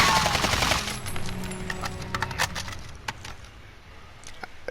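AK74 fired from the hip in Modern Warfare, a rapid automatic burst loud at the start, then trailing shots, clinks and echoing reverberation fading away, with no talk.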